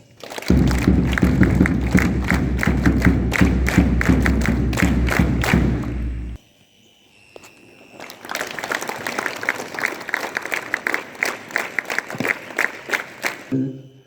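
Loud, dense applause from a large crowd for several seconds, a short pause, then a second round of steady clapping that tapers off.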